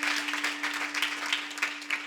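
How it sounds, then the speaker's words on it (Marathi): Applause from a kirtan audience for a mridang master at a devotional Kalyache kirtan gathering, a steady wash of many hands clapping at moderate distance over a constant sound-system hum. "महाराजांकरता जोरदार टाळी वाजवा."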